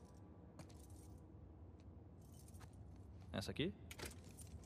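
Keys jangle in The Last of Us Part II as a character tries a ring of them, a short cluster of bright metallic clinks near the end, preceded by faint ticks and a brief spoken question.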